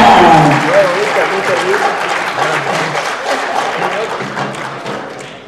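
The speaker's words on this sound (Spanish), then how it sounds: "¡Fuerte los aplausos para recibirla!" Applause from a cultural centre audience in Tartagal, Salta, greeting a dancer before a contemporary music performance: dense, sustained clapping from a crowd that stays loud and steady, with a brief voice at the very start.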